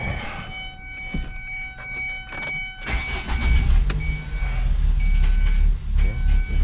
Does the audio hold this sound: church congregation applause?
no